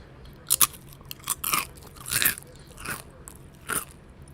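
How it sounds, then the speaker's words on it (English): Crunchy Nut Thins crackers being bitten and chewed close up, a series of sharp, irregular crunches spread over a few seconds with short quiet gaps between bites. "I'm going to chow down on a nut thin."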